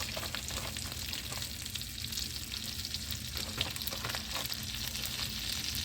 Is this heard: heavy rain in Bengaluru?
no